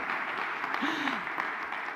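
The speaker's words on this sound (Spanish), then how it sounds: "Un aplauso a Bernardo, por favor" Audience applause at a Spanish-language talk on regenerative investment, a steady dense patter of clapping that runs under a brief voice for about two seconds.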